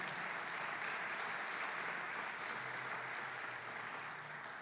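A church congregation applauds during a family worship service, a steady, dense wash of clapping that stays even and fairly loud throughout, with no voices over it.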